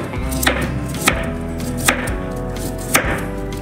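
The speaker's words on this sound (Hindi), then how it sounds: "सबसे पहले हम ब्रोकली को इस प्रकार छोटा छोटा," A knife chops broccoli into small pieces on a cutting board, giving four sharp, evenly spaced thwacks over a steady low background, close and clear, with no talking.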